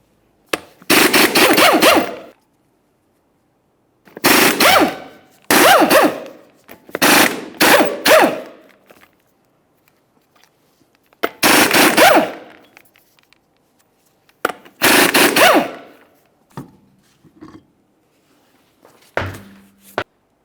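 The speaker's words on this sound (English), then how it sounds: "remove all 6 of your 19mm lug nuts and then the wheel" An impact wrench removes 19mm lug nuts from a 2002-2009 Chevrolet Trailblazer rear wheel in short, loud rattling bursts, about eight of them separated by silent pauses.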